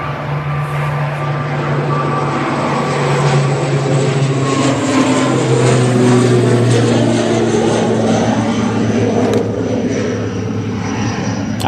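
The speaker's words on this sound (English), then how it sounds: "Sorry for all you ATR lovers out there. It's already up, isn't it?" ATR turboprop airliner taking off from Manchester Airport, a loud continuous engine and propeller drone that rises and shifts in pitch as the aircraft climbs away, steady throughout.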